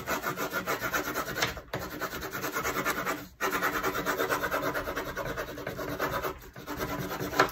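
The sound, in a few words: rubbing bone folder over paper on linoleum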